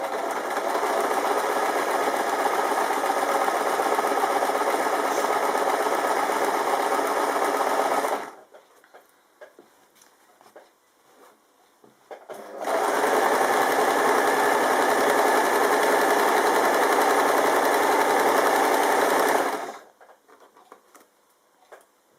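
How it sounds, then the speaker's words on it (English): A sewing machine stitches quilt binding in two long steady runs of fast, even whirring, each lasting several seconds and separated by a quiet pause. "then I put a little bit of tension on to try and keep everything nice and even and straight, and then I start to sew"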